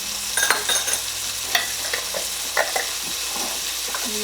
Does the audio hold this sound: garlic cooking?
yes